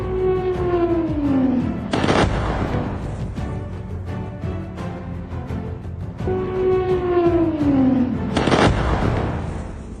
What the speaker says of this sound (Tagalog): Makalipas ng ilang segundo, sumunod ang mga pagsabog.